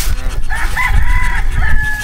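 A goose calls loudly and close by, giving a few harsh honking cries over a noisy outdoor background with no speech.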